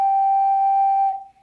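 An ocarina holds one steady, straight note with a clear, pure whistle-like tone, loud and close for about a second before it fades quickly.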